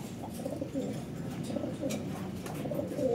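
A racing pigeon coos at its loft after arriving from a race in Balaoan, La Union, with soft repeated low coos in a gentle rhythm, close and fairly quiet.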